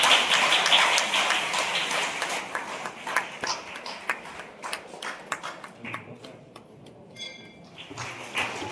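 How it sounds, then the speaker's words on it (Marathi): Scattered hand claps from an audience at a Gajanan Maharaj festival in Bhilai, loud at first then thinning into sparse, irregular claps with a few tapping and pinging sounds. "त्यांचाही आपण सर्व टाळ्या वाजवतो."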